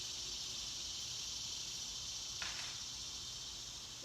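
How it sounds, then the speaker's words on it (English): A dense, steady wash of cricket chirping fills the background in a workshop where antique vanity hinges are being installed, continuous and moderately loud, with a brief faint knock partway through. "Can y'all hear all my crickets?"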